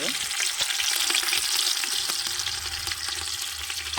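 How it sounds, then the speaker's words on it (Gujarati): Fish frying in hot oil in a village kitchen, a steady close crackling sizzle with scattered pops that runs throughout, with no talking. "હવે મચ્છી ફ્રાય થાય છે તેલમાં."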